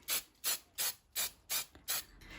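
An airbrush or aerosol sprays food colour onto woodland-themed cake art in six short, evenly spaced hissing bursts, each about a third of a second long, close and clear with no talking.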